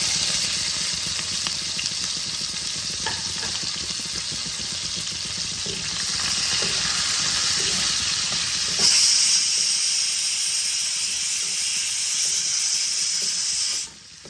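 Chopped onions sizzle steadily in a pan with cumin, a bright constant hiss over low to medium heat, with occasional stirring scrapes and a brief quieter tail at the end.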